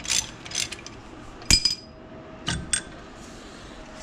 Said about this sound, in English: to remove the caliper, you need an 18 millimeter socket. Once you break those loose, you're just going to remove these two bolts.